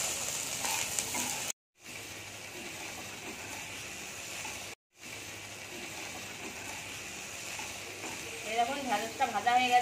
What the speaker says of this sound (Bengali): ভেড়িটা ভাজা হয়ে এসছে, ঝরকানি ভাবটা চলে গেছে।